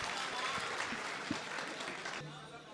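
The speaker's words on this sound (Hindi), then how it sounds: "हज़रात तालियों से इस्तक़बाल कीजिए" An audience at a mushaira applauds steadily to welcome a poet, a dense wash of clapping that fades slightly near the end as a voice begins.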